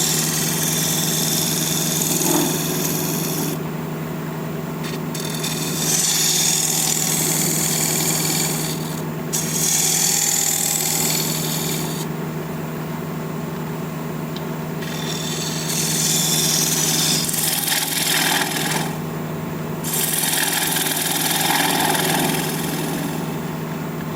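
A wood lathe spinning steadily under a low hum while a 3/8 inch gouge rubs and scrapes against the turning wood in repeated passes, the cutting noise rising and easing with no talk.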